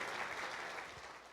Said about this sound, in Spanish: Vamos a darle un fuerte, fuerte aplauso a todos estos muchachos